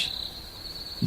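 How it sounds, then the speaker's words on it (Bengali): A steady, high-pitched cricket trill runs continuously, loud and close, with a brief low thump at the very end. "চারিদিকে ঝিঝি পোকার ডাক"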